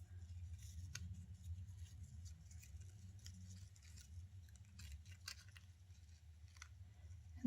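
Faint, close snips and rustles of scissors trimming a paper cutout from a magazine page, soft irregular clicks over a low steady background hum.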